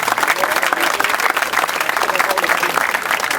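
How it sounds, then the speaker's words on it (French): Audience applause at a trophy award ceremony: a dense, sustained round of clapping from a sizable crowd, steady and loud across the whole stretch with no break. "Encore un tonnerre d'applaudissements à son intention"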